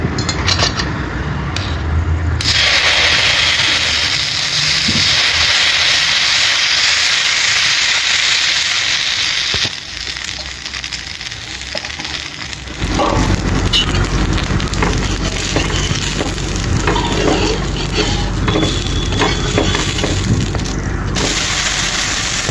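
Fenugreek paper dosa batter sizzles on an oiled tawa griddle, a loud, steady hiss that runs almost the whole time, dipping briefly midway before surging again, with no one talking.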